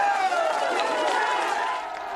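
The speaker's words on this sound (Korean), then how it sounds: "윤석열 당선인이 풍물시장에 나타나자 시민들의 환호가 쏟아집니다" Citizens at a traditional market cheer and shout for President-elect Yoon Suk-yeol, a continuous crowd roar with a voice speaking over it.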